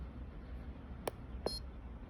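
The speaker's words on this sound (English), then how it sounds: "So it beeps and the light goes solid, it's no longer running." A Centropix Kloud Mat controller gives two short, clear electronic beeps about half a second apart as it stops, set against a low steady background hum with no talking.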